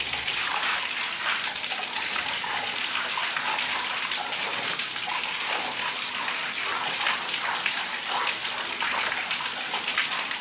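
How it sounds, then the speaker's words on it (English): Running water pours steadily through a flow-through tank while newly hatched fry are washed, making a continuous close rushing and splashing with no pauses. "You wash on a running water because as you're washing, it has to be going out immediately."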